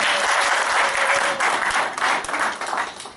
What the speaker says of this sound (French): d'applaudir très fort pour ce reportage que nous venons de suivre du blog Banamikili